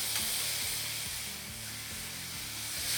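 Chicken legs searing in a hot pan for jalapeño chicken soup, a continuous close sizzle and hiss with faint rhythmic low thumps underneath, no talking.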